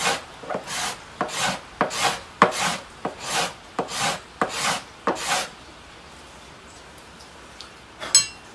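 A scraper is drawn repeatedly along the wooden sides of a Trigger 2 guitar where they meet the binding, about ten rhythmic rasping strokes up close, then quiet with one last scratch.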